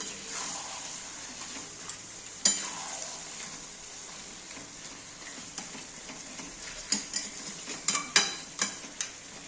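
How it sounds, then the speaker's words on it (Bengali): Mutton being stirred into fried spice paste for alu mutton kosha, a soft sizzle underneath repeated sharp ladle scrapes and clacks against the pot, growing busier toward the end. "এবার মাংসগুলো দিয়ে দেবো সব। এবার একটু নেড়ে দেব"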